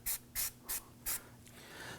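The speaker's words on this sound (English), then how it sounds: "spray the wheel hub with a little bit of anti-seize compound" An aerosol can sprays anti-seize compound onto the front wheel hub of a 2008-2011 Ford Focus in four short, sharp hissing bursts, evenly spaced and close, followed by a faint fading hiss.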